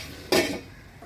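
Utensil clattering against a cooking pot while stirring spinach ghonto with fried lentil dumplings and sugar, then a lid set over it; a single brief burst of metallic scraping and clanking, close by, followed by a quiet hum.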